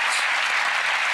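A short burst of dense audience applause in a television magic-show studio, loud and continuous with no individual claps standing out.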